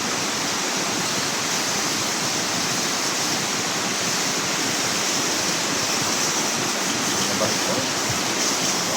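Water rushes steadily through a formerly dry creek in the mountains, a loud, continuous, close-up roar of flowing water with no voices.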